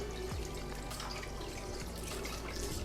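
Water sloshing and splashing by hand while moving fish from an acclimation container into a 75-gallon aquarium, close, continuous small splashes and drips with no talk.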